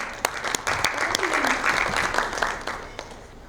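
Applause from the audience at a leadership talk greets Ms. Shobha, a broadband patter of claps with a few sharp individual claps standing out, moderately loud and steady for a few seconds, with a voice murmuring over it.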